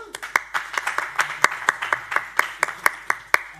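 Scattered audience clapping at a Melton community transport forum after the mayor's introduction, a dozen or so distinct sharp claps in an uneven rhythm, close and fairly loud, with faint talk underneath.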